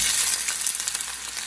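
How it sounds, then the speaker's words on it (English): Onion sizzling and frying in hot oil in a pan, a steady, dense crackling hiss that stays loud and even throughout with no talking. "Now I'm going to fry onion."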